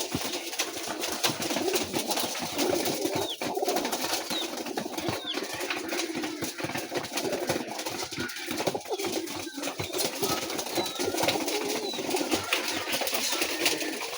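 Raj golla pigeons at a coloured pigeon farm coo steadily and continuously, with close, layered cooing from many birds and occasional soft wing flaps, with no talking.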